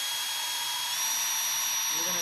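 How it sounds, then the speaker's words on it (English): A power drill bores into a wooden chair leg, a steady high-pitched whine held close and loud throughout, with a slight change in tone near the end. "as you're drilling, it wants to blow through the other side"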